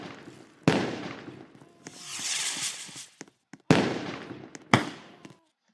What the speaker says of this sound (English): Oh, there's a fireworks shows right there.